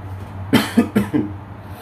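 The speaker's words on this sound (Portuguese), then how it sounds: "desculpa eu estar tossindo" A quick burst of four close, harsh coughs packed into about a second, with a faint steady hum underneath.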